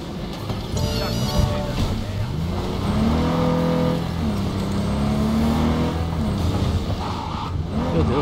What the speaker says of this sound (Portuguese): Deixa eu pegar esse carro.